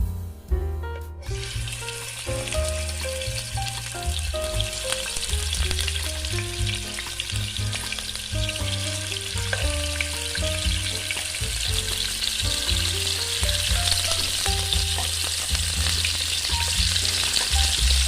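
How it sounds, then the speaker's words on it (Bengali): Rui fish pieces fry in hot soybean oil in a pan, giving a steady, loud sizzling hiss that runs the whole length, mixed with prominent background music. "এখানে আমি তেল দিয়ে দিলাম ভাজার জন্য, রান্নার সয়াবিন তেল"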